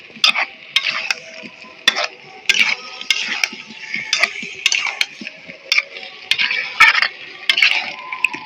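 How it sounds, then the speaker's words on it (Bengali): Spiced potatoes cooked with a splash of milk are stirred in a pan for a vegetarian aloo dum, a spoon scraping and clinking against metal in quick repeated strokes over a soft background fizz. "তাই ভালো করে কষিয়ে নেবো।"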